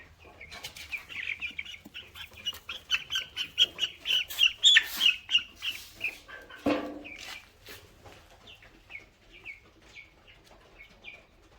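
Broiler chickens squawk and flap their wings in a flurry of rapid calls while being handled for weighing, building to a loud burst and then fading to scattered chirps.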